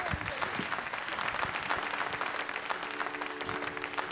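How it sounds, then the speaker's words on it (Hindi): At a police awards ceremony, a large hall audience breaks into sustained applause for an ADG, the dense clapping steady and even with a faint hum underneath. "ज़ोरदार तालियों के साथ उनका स्वागत किया जाए"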